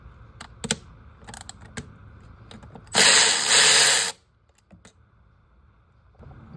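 Loosening bolts under the hood of a 2011 Nissan Versa during a spark plug job, with scattered clicks and taps followed by one loud, roughly one-second burst of ratcheting or tool noise close by, then quieter handling sounds.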